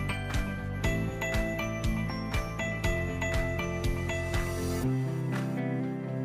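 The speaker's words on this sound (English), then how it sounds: "This instrument is installed with 3 self-tapping screws." Self-tapping screws are driven to fix an instrument panel on a Lvbao electric passenger tricycle, giving a close, rhythmic ratcheting clatter of repeated clicks that stops abruptly near the end.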